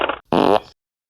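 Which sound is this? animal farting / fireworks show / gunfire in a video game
animal farting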